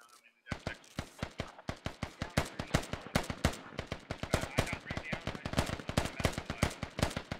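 Heavy machine gun fire in the Squad military shooter, a DShK position hammering away: rapid, loud bursts of shots in a steady fast rhythm after a brief quiet start, continuing without letup.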